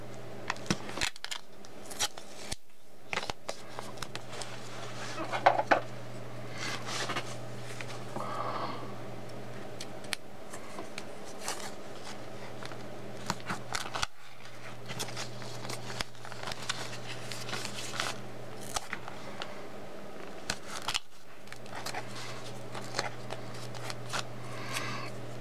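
Scissors snipping slowly around a piece of clear acetate for a craft coin: soft, close, intermittent cutting clicks over a steady low room hum, with no talking.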